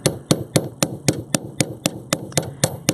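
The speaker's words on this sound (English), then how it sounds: "Hammer those down using my chasing hammer." A chasing hammer taps down a wire earring loop on a hard surface. Eleven or twelve crisp, evenly spaced strikes come close and loud, about four per second, with no talk.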